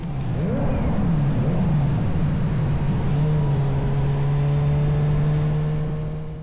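A big-bike motorcycle engine revs inside a road tunnel: a loud, rising throttle burst settles into a steady, droning idle-like hum that fills the enclosed space.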